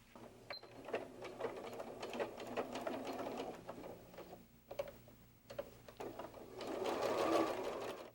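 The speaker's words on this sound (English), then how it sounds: "we are going to sew the side that does not have any notches on it from top to bottom" A sewing machine stitches fabric pieces together for the front body of a fox softie, running in close, steady bursts of rapid mechanical ticking with short pauses between seams.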